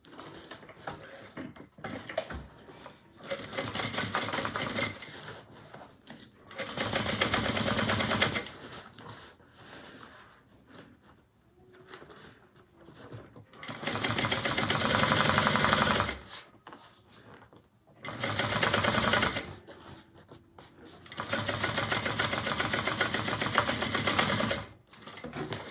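A sewing machine stitches a seam on a Mabella bag with a 3/8 inch seam allowance, running in several loud rapid bursts separated by quiet pauses and handling of the fabric.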